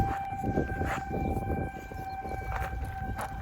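A steady tornado siren tone during a monthly test holds throughout, with a fixed wailing pitch over low rumbling background noise, fairly loud and continuous.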